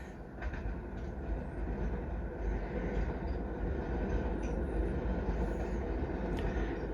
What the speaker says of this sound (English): Once the subway train goes by, I'll go ahead and give it a shot.